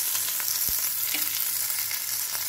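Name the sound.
bacon fat frying in a pan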